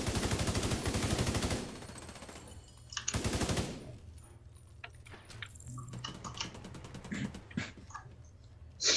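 Rifle fire in the video game The Division 2, with rapid bursts of automatic shots, loud and close, then scattered shorter volleys and single cracks over quieter game ambience.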